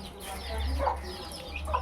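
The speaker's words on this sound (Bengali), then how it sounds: "মুরগির বাচ্চা আছে এখানে, কিছু মুরগির বাচ্চা" Chicken chicks at a farm building by a peanut factory give soft, brief clucks and peeps, faint and close together over about two seconds.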